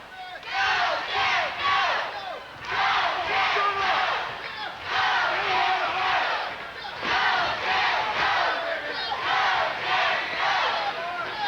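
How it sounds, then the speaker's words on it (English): Wrestling arena crowd chants and shouts in rhythmic waves, a loud unified roar of many voices swelling and dipping in repeated bursts, close and full. "And Frank rallies this crowd."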